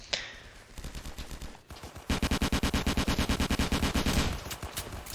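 Rapid bursts of automatic gunfire in a Roblox D-Day game, a short volley and then a longer, fast, evenly spaced stream of loud shots.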